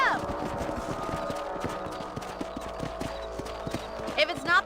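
A horse gallops in Red Dead Redemption, its hooves clopping in a quick, steady rhythm close by, with a brief whinny near the end.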